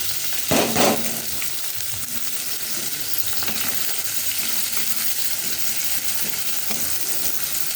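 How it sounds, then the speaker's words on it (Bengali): Chili, chopped garlic and onion dropped into hot oil in a kadai, a sudden loud burst of frying that settles into a steady, dense sizzle with occasional stirring scrapes, close up and without speech. "কড়ার তেল গরম হয়ে গেছে, বা তেলের মধ্যে দিয়ে দিই"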